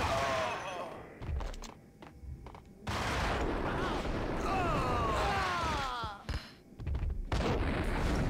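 Grenade blasts and gunfire in the video game Max Payne, with loud broadband bursts and a sustained roar of shooting across the clip, some gaps between volleys, and a voice talking over the action.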